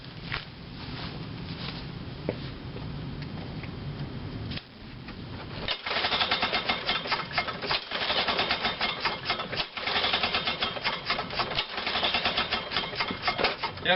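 A cold small engine is cranked without choke: soft handling noises first, then a loud, rapid mechanical chatter takes over, broken by several brief cut-outs as it sputters.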